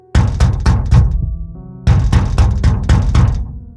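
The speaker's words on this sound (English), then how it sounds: "Knock, knock, knock." A burst of four loud knocks on a door, a short pause, then a faster series of knocks, close and forceful.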